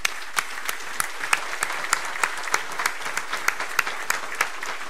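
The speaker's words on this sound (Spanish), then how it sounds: "Fuerte aplauso para él." Audience applause at an Uruguayan 2019 election forum for a presidential candidate, a thin, steady patter of clapping with a few sharper individual claps standing out, moderately close and without voices.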